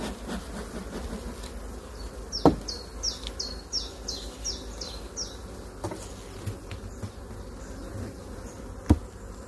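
Honeybees buzz steadily in a dense, continuous hum during a hive inspection with smoke, with a few faint high chirps and occasional sharp taps over the swarm.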